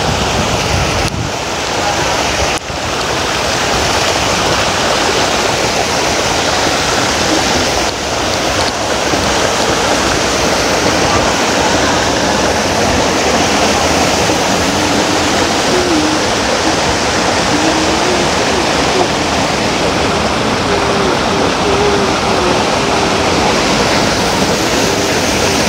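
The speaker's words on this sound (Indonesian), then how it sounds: "Kita sudah sampai di lautnya nih teman-teman." Sea waves roll onto a beach at Gold Coast, Tuen Mun, a loud, continuous wash of surf with wind buffeting the microphone throughout.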